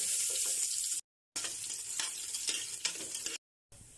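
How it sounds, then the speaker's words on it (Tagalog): Garlic sautéing in hot cooking oil gives a steady, close sizzle with stirring scrapes, broken by two short silent cuts. "Mag-gisa na tayo. Unahin natin ang bawang."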